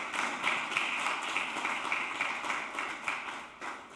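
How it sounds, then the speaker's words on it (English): Audience at the UW Tacoma School of Urban Studies student awards applauding an absent honoree, a short burst of moderate, steady clapping from a room of people. "maybe we can give him a round of applause in his absence"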